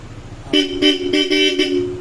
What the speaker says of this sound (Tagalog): Tapos maganda yung busina na sir, malakas.